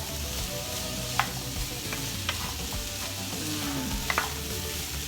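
Potatoes for a Cebuano empanada filling frying in a pan, a dense continuous sizzle with a few sharp utensil taps against the pan as they are stirred; close and steady, no talking.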